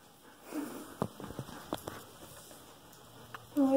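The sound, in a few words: loud breathing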